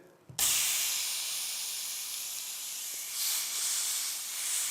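Meat sears in a hot pan with a sudden loud hiss as it lands, then a steady broadband sizzle that swells again near the end, close and alone without talk.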